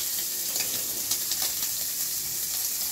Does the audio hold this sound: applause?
no